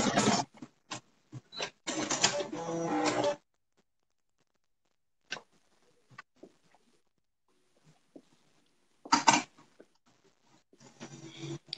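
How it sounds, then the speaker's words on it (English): A home sewing machine stitching down garment pockets runs in two loud bursts of rapid mechanical whirring, one near the start and one near the end, with a long quiet stretch and scattered faint clicks and handling noises between. "I'm just sewing down my pockets because I cut them"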